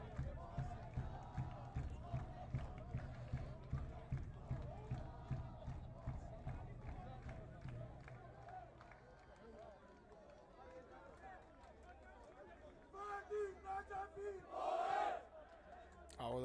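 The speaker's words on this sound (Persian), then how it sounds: "تشویق میکنن بازیکن تیم خودشون رو." Damash Gilan fans cheer their team at a football derby against Shahrdari Bandar Astara, a large stadium crowd chanting in steady rhythmic pulses that later subside before fresh loud bursts of roaring.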